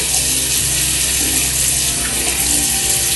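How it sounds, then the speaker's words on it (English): Tap water runs steadily and loudly into a bathroom sink during face washing, a continuous splashing rush with no talk. "So, I'm gonna wash my face off."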